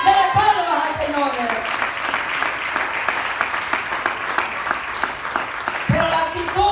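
A church congregation claps in sustained applause at a service, a dense wash of many hands that begins over a fading preacher's voice and swells toward the end as talk returns.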